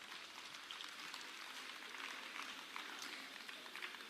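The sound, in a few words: audience applause for St. John's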